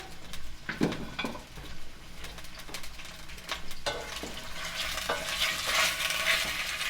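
Chunks of stew meat fry in a little oil for an Italian stew with cabbage and potatoes, giving a steady close sizzle broken by scraping stirs and a few utensil clinks against the pan.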